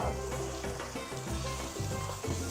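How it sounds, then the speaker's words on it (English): Curry chicken stew seasoned with garlic powder, onion powder and cayenne sizzles steadily in a pot while being stirred, a close, continuous frying hiss with low clattering underneath and no voices. "Give it a good stir."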